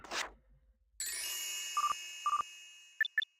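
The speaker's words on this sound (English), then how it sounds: "The doors are now opening." Door-opening chime of a train in a Japanese rail simulator game on a line toward Kyoto, a steady electronic tone with repeated short ding pairs, then two brighter chimes, clear and close.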